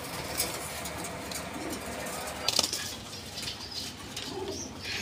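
Pigeons at a wholesale pigeon market coo softly over busy background noise, with a brief flutter of wings, while people talk quietly nearby.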